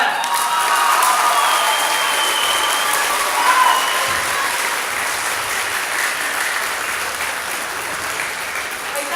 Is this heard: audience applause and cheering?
yes